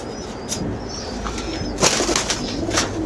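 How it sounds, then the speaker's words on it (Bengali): Soft pigeon cooing against a steady hiss, with some rustling and a few sharp clicks; no one speaks. "আরেকটা কবুতর নিতেছি"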